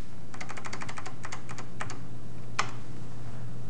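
Quick bursts of keystrokes on a computer keyboard, from a 1993 bulletin-board setup, come in short irregular runs with pauses, close and clear over a steady low hum, ending with one sharper key press.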